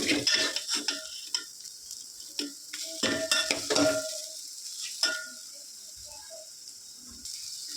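Egg fries in a pan for leftover-rice egg fried rice, with a quick run of close spatula scrapes and clacks against the pan over a light sizzle, thinning out to quieter frying toward the end.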